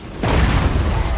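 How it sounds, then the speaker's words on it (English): A steam tank fires in a Warhammer battle game, a single loud close boom with a sharp onset followed by a dense, rumbling tail. "Steam tank."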